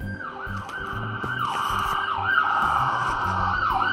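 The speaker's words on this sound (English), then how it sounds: "And the sirens are getting louder." Wailing ambulance sirens rise and fall repeatedly, growing steadily louder as they approach over a low rumble of road traffic.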